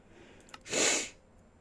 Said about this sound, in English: Oh, I feel a sneeze.